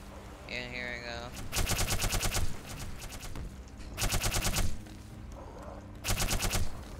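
Alien Hivehand weapon firing in the Black Mesa video game: three rapid buzzing bursts, each about half a second to a second long, separated by short pauses, loud and close.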